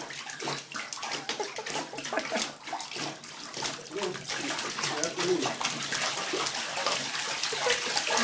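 Bath water runs steadily and splashes while a Boston Terrier puppy is bathed. The flow is continuous and fairly close, with people talking over it.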